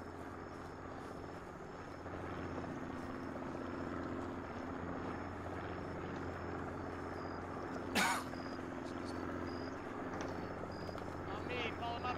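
A helicopter in the video game ARMA 3 drones steadily at a distance through the whole stretch, a continuous low rotor rumble with a brief sharp burst partway through.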